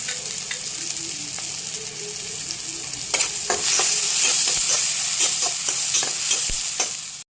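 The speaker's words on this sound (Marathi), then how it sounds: "असं तेल सुटोपर्यंत आपल्याला चांगलं हलवून घ्यायचं आहे हे लो फ्लेम वरती" Spiced paneer bhurji masala with turmeric and red chili being stirred in oil over a low flame, a soft sizzle with a steady run of spatula scrapes that grows busier and louder midway, close by, no talk.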